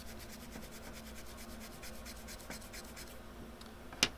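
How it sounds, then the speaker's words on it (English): A toothbrush scrubs quickly back and forth over a stonewashed Kershaw knife blade, a steady close scratchy rasp with even strokes, ending in one sharp tap. "Sometimes I hit it with the toothbrush. This is stonewash, so I think we can get away with the brush."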